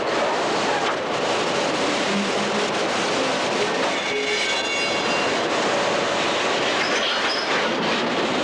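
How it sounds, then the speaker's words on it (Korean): A long freight train hauling minerals on a railway in Brazil rumbles past in a loud, continuous roar, with wheel noise and faint metallic squealing throughout. "재작년에 완공된 890km의 철로 위를 160대의 화물 차량이 광물을 실어 나르고 있었다."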